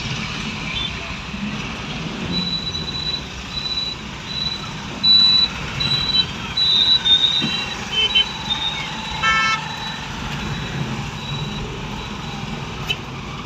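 Large vehicles and trucks crawl through a busy junction on a narrow road in Kudalwadi, Sindhudurg: a steady rumble of engines and road noise with a run of repeated high reversing beeps and a few louder passing surges.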